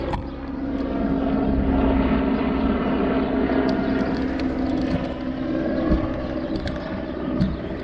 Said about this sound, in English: That's Wucher Helicopter.